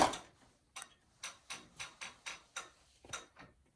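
Longarm quilting machine stepping forward slowly with the needle down, giving soft, evenly spaced mechanical ticks about every quarter second, faint and close, with no talking.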